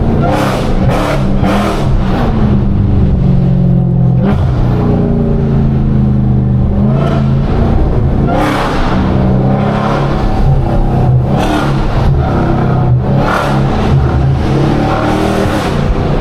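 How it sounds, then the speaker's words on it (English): A Dodge Challenger Hellcat widebody's engine revs loudly and continuously, rising and falling as it accelerates through downtown Atlanta, close by and steady throughout; no talking. "Who is Chris feeling like revving?"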